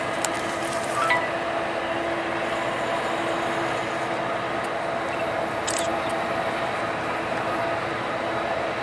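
A CSX train led by a GP40 locomotive with a wide cab rolls past on the Hudson and Berkshire subdivisions, a steady, even rumble with faint high wheel squeal and occasional metallic ticks throughout.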